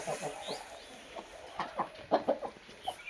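A large brooding hen on a Purulia farm gives soft, repeated clucks at close range, in a quiet series of short calls that grow a little louder toward the end.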